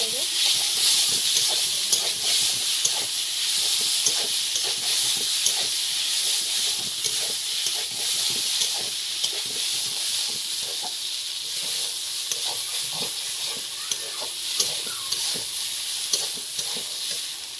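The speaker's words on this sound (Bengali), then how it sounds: "আর লঙ্কা দিয়ে দেবো ভেজে নেব তেল" Chilies frying in hot oil for a Bengali jackfruit and prawn curry, giving a steady, dense sizzle and hiss with small crackling pops throughout, close and continuous.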